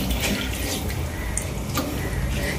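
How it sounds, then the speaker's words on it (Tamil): Rice poured into a pot of water while cooking chicken mandi, a continuous close splashing and trickling with small drips, steady throughout and with no talking. "அரிசி சேர்த்துக்கிறேன்."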